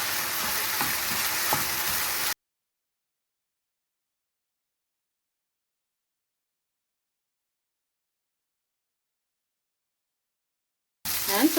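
Chopped onion and chicken breast sizzling in a hot pan, a steady hiss for about two seconds, then a long stretch of silence before the frying briefly returns with some stirring at the end.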